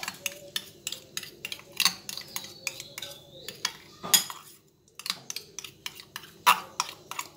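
Beaten eggs and sugar are whisked together in a bowl for French toast batter, with a fast, regular series of sharp metallic clicks against the bowl, close and fairly clear, pausing briefly midway.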